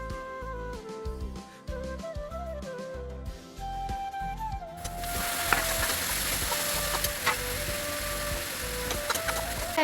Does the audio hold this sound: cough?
no